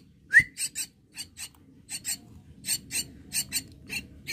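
A person whistles while training a young Nias myna bird: a rising whistle, then a string of short sharp chirping bursts in an irregular rhythm, close and clear against a quiet background.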